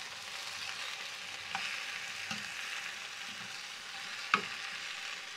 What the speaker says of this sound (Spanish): Ahí también vamos a poner la cebolla, los ajos y los chiles. Entonces vamos a esperar que se frían un poquito.